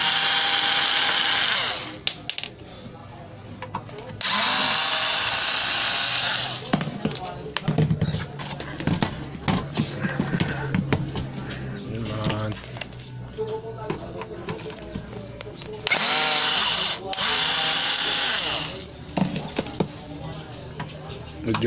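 A power screwdriver backs screws out of an RPOMAC AV-SU2025FM power amplifier, several loud high-pitched whirring bursts separated by clicks and handling noises, with someone talking in between.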